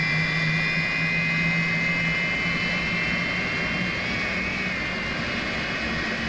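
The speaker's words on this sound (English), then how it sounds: "I love that sound whenever fuel gets introduced to the engine. It really starts roaring." Steady roaring whine of an Airbus A300 jet engine spooling up after fuel is introduced, in a flight simulator, a constant dense hiss with faint tonal hum throughout and no voices.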